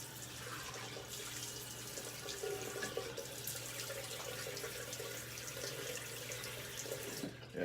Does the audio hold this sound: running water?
yes